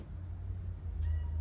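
A kitten gives a brief, faint meow near the end, over a steady low hum indoors on a cold night before a snowstorm.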